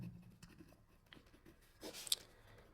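A pen scratches and scrapes on paper in short faint strokes, with a slightly louder burst near the end, while a rectangular field's area is noted down. No one speaks.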